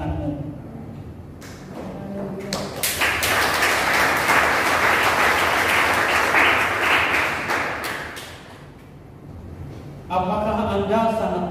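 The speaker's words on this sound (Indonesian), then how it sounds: "tepukkan tanganmu." A church congregation claps hands during a Sunday service: scattered claps build into loud, sustained clapping for several seconds, then fade as music and a voice return near the end.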